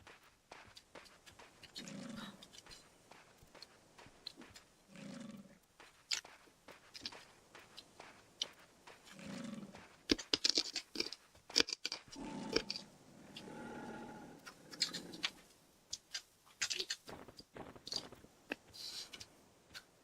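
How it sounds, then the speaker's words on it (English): Close, crisp crunching of food being chewed, coming in short bursts with pauses between bites, fairly loud near the mouth and without talk. "As I crunch some more."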